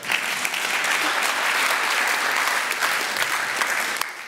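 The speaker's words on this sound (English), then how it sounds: "we can all applaud ourselves on that one as well" An audience at a university's State of the University address claps together, a dense, steady burst of applause that holds evenly for several seconds.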